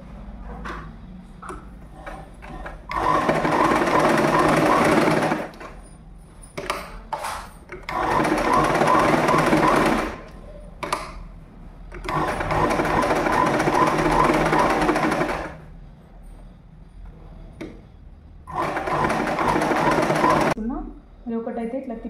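Electric sewing machine stitching a uniform skirt, loud close whirring runs of a few seconds each, four main bursts separated by pauses with softer handling sounds between.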